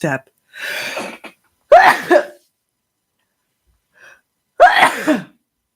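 Two sharp, loud sneezes burst out close up, each set off by a quick breath. Breathy vocal sounds and a soft noise come in between them, with no clear speech.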